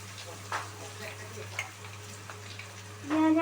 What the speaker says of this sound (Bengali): এই পেস্টটা দিয়ে কিছুক্ষণ আরও একটু তেলের মধ্যে ফ্রাই করে নিতে হবে